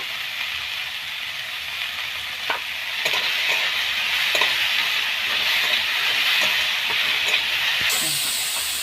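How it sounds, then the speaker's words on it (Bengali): Salted chicken mince mixture, for momo filling or chicken soup, stirred in a pan over a steady loud sizzle, with scraping spoon strokes at irregular intervals. "একটু এরকম নাড়াচাড়া করে"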